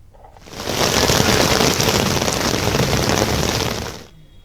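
Heavy rain pours down in Hyderabad, a dense, steady roar of falling water that swells in after a quiet start, holds loud and constant for several seconds, then drops away.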